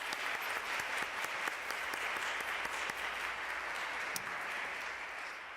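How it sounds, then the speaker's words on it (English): Steady, dense applause from a large audience at a Junior League general membership meeting, continuous for several seconds, with no voices over it. "let's give her a round of applause anyway"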